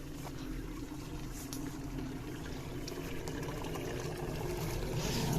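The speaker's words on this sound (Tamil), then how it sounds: "இதில் வருது பாருங்கள் தண்ணி." Water runs through a channel in a field where fish swim, making a faint, steady trickling and gurgling flow close by that swells slightly louder toward the end, with no talk over it.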